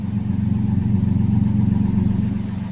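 A 4.0-litre V6 engine in an X-Runner truck idles steadily, a loud, close, rumbling low drone with a lumpy, slightly uneven pulse that sounds aggressively cammed, holding without a rev.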